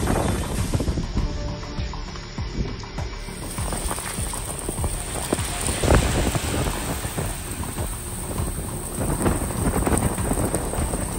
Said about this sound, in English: Heavy rain hits Hanoi.